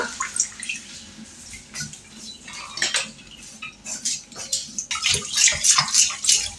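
Fish being cut with a knife in a home kitchen, with irregular scraping, tapping and knocking against a surface, sharper metallic clinks and wet sounds growing busier and louder toward the end, no voices.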